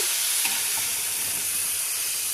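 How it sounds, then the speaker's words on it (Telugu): Chicken pieces being stirred with masala spices in a hot pan, a steady loud sizzle and hiss with faint scraping, no talking. "ఇప్పుడు ఇవన్నీ ఈ మసాలాలన్నీ ఈ చికెన్ పీసులకు పట్టేలాగా బాగా కలుపుతున్నాను"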